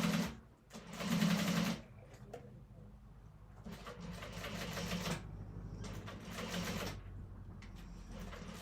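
A sewing machine stitching a quilt binding runs in several short bursts of rapid mechanical whirring and clatter, separated by quiet pauses, heard close up.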